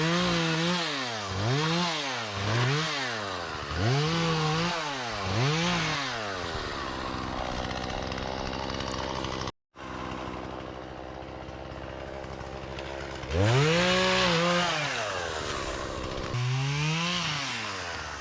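A chainsaw is run on a trip to an island, its engine revving in repeated rising and falling surges, then idling steadily before revving again, loud and close with no speech.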